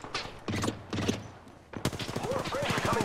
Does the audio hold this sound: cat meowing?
no